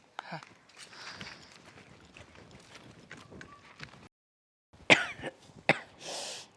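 A person with a cold coughs several times in quick, sharp bursts near the microphone, with pauses of quiet between.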